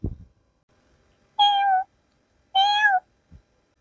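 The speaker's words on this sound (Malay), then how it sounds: "Bunyi anak kucing." Two clear, high-pitched kitten meows about a second apart, each slightly falling in pitch, with near silence between and a faint thump at the start.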